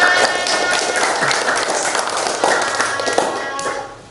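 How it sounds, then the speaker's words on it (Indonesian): Classroom audience clapping hands, a brisk patter of individual claps that is fairly close and loud at first, then thins and fades toward the end. "tepuk tangan untuk Mas Ilya"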